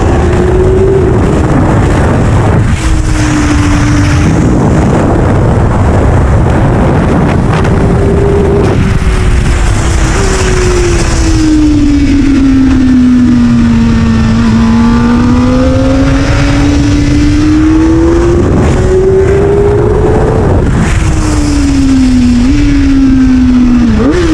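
A Kawasaki ZX-4RR motorcycle engine revving hard while riding, its high-pitched whine climbing and falling through the gears, loud and continuous with wind rush, no voices.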